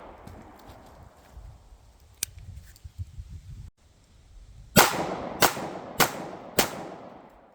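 Ruger 5.7 pistol fired at an AR-500 steel plate: four sharp, loud shots spaced under a second apart, each a bright crack with a short ringing tail, after a quiet stretch of faint outdoor background.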